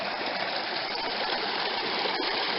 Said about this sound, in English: Nice, clean, cool stream.